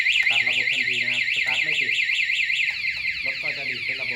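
A 2019 Honda Scoopy motorcycle anti-theft alarm wails in a shrill, rapid rising-and-falling electronic warble, loud and continuous, with faint pulsing tones and some background noise beneath it.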